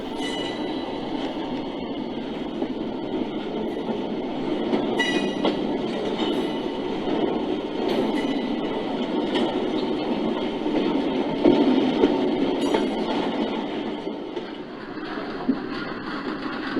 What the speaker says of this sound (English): as we watch a train roll through the mock-up of Selkirk Yard